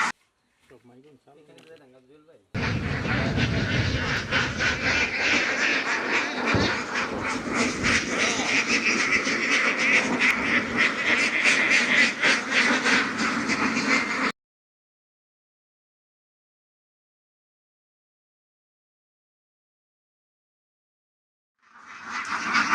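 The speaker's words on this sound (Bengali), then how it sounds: "আজকে আমাদের পিছনে যে হাঁসগুলো আপনারা দেখতে পাচ্ছেন" Egg-laying ducks on a duck farm raise a loud, dense quacking chorus that carries on for about twelve seconds, then stops abruptly; a voice may also be speaking.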